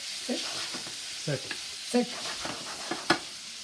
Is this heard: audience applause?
no